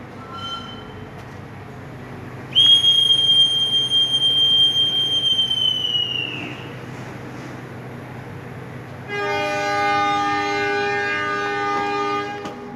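KA Pandalungan passenger train departing a station in Indonesia: a long, loud tonal whistle sounds, then after a pause a steady multi-tone horn blares, over a continuous low rumble of the train.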